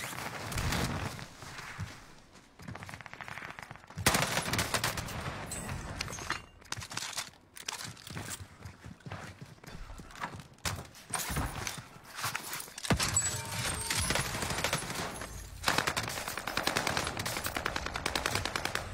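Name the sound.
gunfire while shooting in a video game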